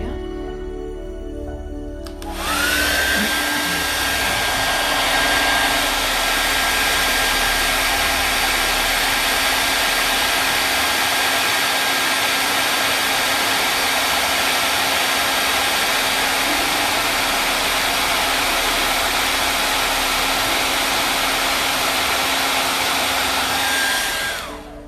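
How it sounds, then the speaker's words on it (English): A hair dryer switches on after a couple of seconds and runs steadily at close range, a loud continuous whooshing hum with a faint whine, used to dry a watercolor painting, then cuts off at the end. "I might just zip out the hairdryer and quickly just dry that bottom area"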